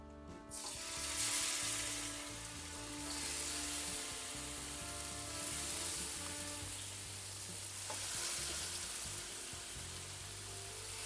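Fish coated in masala sizzles and crackles steadily in hot oil in a pan. The frying noise is close and continuous, with gentle swells as the pieces settle.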